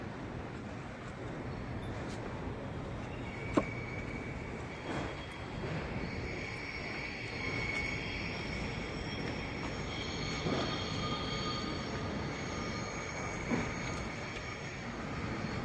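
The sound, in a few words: train arriving at Seoul Station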